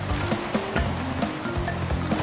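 Waterfall water in the video game Crash Bandicoot N.Sane Trilogy rushes in a steady wash, broken by short thumps and splashes at irregular intervals.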